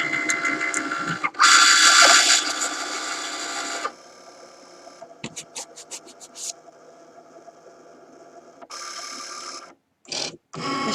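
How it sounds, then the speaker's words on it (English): A Cricut Maker cutting machine starts an engraving job on a metal bangle blank, whirring loudly in bursts with short motor stops, rapid stepping ticks and pauses, heard up close with no talking. "Machine is checking that we have the right blade."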